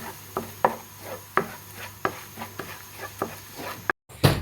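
A spoon scrapes and taps in a pan as cornflour is stirred into melted butter for a creamy white sauce, a steady series of dull knocks and soft scraping at close range, with no talk.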